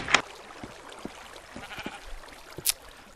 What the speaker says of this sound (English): you can see a sheep just got itself pulled in.